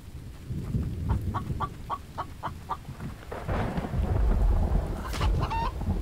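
A rooster in a survival video game gives a run of rhythmic clucks, then a loud crow near the end, over a rumbling stormy background.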